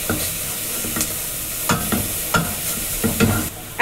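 Onion and meat fry in a pot while a spoon stirs them, a steady close sizzle broken by scraping strokes against the pot.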